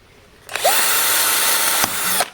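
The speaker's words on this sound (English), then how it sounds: "It's actually better to drill your holes first" A power drill whines loudly and steadily for about two seconds, biting through a wooden popsicle-stick frame, then spins down with a brief pause before cutting out.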